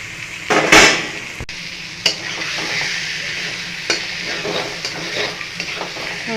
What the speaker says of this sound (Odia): ଭଜା ଚିଙ୍ଗୁଡ଼ି ପକେଇ ଦେଉଛି